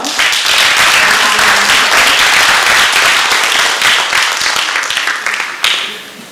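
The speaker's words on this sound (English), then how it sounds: "a round of applause." Loud applause from an audience at a youth debate in Hanoi, a dense continuous wash of many hands clapping that holds steady for several seconds, then tapers and fades near the end.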